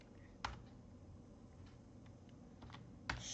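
Quiet, sparse keystrokes on a computer keyboard while writing code, a few isolated clicks spread out over a soft background hiss.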